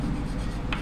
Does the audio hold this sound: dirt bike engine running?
no